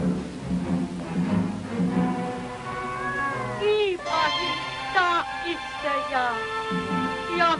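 Several cats meow in a strange house in the desert, a run of drawn-out, rising and falling mews overlapping one another, following a stretch of talking.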